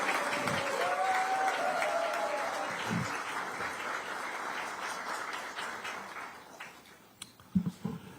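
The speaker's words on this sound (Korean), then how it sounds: "여러분 여기서 박수 한번 보내주시죠" Audience at a Democratic Party political event applauding, sustained crowd clapping that fades out after several seconds, followed by a few isolated thumps.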